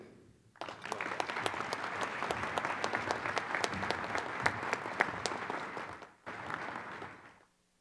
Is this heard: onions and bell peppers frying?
no